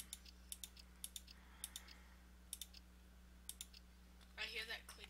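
Keyboard and mouse clicks during a co-op zombie shooter game, quiet, crisp taps coming in small clusters at an irregular pace, with a brief burst of louder clatter near the end.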